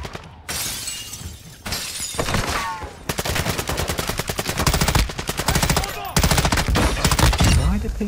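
Rapid bursts of video game machine-gun fire rattle loudly in long sustained volleys with short pauses, sharp and close, with shattering impacts mixed in.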